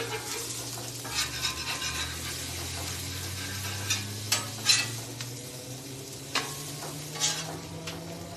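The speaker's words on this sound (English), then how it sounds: "let's break them loose from the griddle" Smashburger patties scraped loose from a hot griddle with a metal spatula, a series of sharp scrapes and clanks over a continuous sizzle, close and fairly loud, no speech.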